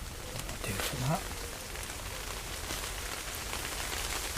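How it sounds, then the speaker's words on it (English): Steady rain pattering on a 3x3 tarp shelter outdoors, a continuous soft hiss of drops close overhead with no break, while a brief low sound near the start sits under it. "We're definitely getting the rain there."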